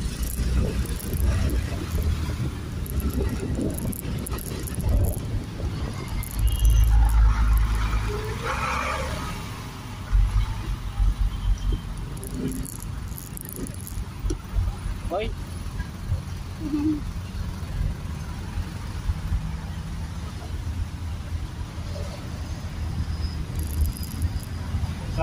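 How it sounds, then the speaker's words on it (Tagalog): Road traffic rumbles around a rider on a hot, congested road, a steady low engine-and-wind noise filling the whole stretch with a few louder swells as vehicles pass nearby. "Traffic guys, traffic."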